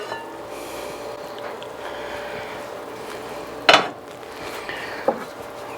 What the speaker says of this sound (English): So let's get this lid off,